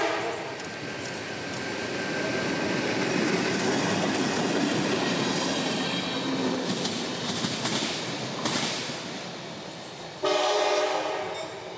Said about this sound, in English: the daily local out of Baldwin, rolling south at track speed today with one solo tank car for Hawthorne, led by CSX 6919